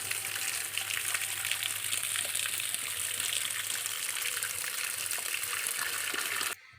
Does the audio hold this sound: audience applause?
no